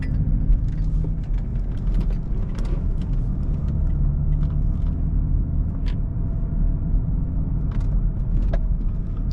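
A BMW car drives through a full roundabout, its engine a steady low rumble with road noise underneath and small clicks and rattles from inside the cabin, continuous for the whole stretch with no talking.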